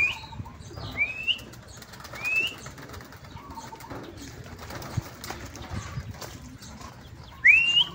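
Pigeons and doves call and flutter in the open at midday, with a sudden burst of flapping wings near the end and bird chirps scattered throughout.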